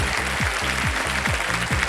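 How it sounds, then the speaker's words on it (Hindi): A game-show studio audience breaks into applause for a correct answer, a bright continuous wash of clapping under a looping rhythmic music sting with regular pulsing beats. "ताली बज जाए।"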